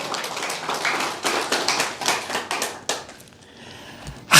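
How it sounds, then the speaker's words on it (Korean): A church congregation claps along in a sermon service, giving a few seconds of loud, rhythmic, close hand claps that then trail off into quiet. "믿으면 박수 하시오."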